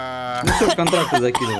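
A man gives a short dry cough, mixed in with rapid Russian speech from people chatting during a CS:GO session.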